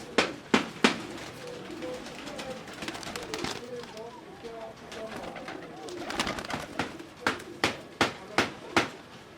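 Teddy baby pigeons coo softly in soft repeated low burbles, mixed with sharp clapping or tapping sounds and someone speaking over them.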